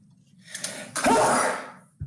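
One person sneezes once, a short breathy build-up followed by a loud burst, with quiet room hum around it and a brief thump at the end.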